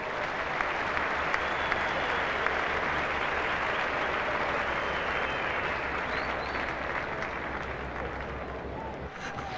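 Test-match cricket crowd at the SCG applauding a fine on-drive, sustained massed clapping that fills the ground and fades slightly toward the end, with a commentator's voice faintly underneath.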